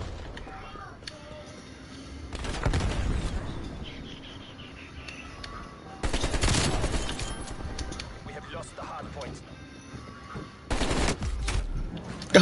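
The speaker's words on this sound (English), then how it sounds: "I'm shooting at his fucking head" Rapid bursts of automatic gunfire ring out in a Black Ops Cold War multiplayer hardpoint match, three loud volleys spaced apart over a steady game soundtrack, with a player talking throughout.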